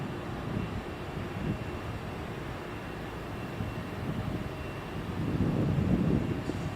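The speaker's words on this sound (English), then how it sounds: "Let's hear those Pratt & Whitney engines roar." An airliner with Pratt & Whitney engines moves at Sky Harbor International Airport, a steady distant jet rumble with broadband noise that swells toward the end.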